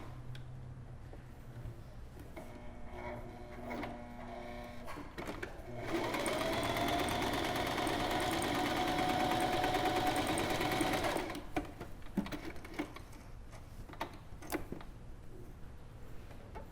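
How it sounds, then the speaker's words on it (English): A sewing machine runs a straight seam about 1/8 inch from a seamed edge while finishing it, a steady whirring burst of about five seconds, with quieter handling clicks before and after. "And I sew in a straight line all the way down."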